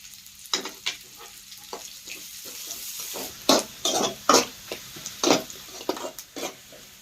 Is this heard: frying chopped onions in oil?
yes